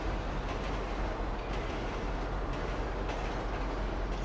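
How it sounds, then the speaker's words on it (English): A train rolls along in GTA 5 Online, a steady loud rumble of wheels on rails with faint rhythmic clicks, continuous throughout with no voices. "Guys, push the train. Make the train go faster."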